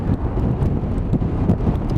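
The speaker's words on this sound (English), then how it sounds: "It is windy as hell." Strong wind buffets the microphone on a cold, miserable day, a loud, steady low rumble with gusting surges throughout.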